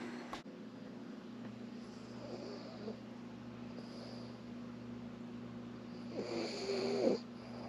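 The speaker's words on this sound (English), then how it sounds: "You got your tongue out, your eyes open, and you're snoring?" A sleeping person snores, slow rasping breaths rising in a louder throaty burst near the end, close and quiet over a steady low room hum.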